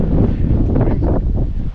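Strong wind roars and buffets the microphone on a mountain trail in the Balkan range, a loud, continuous low rumble with no pauses.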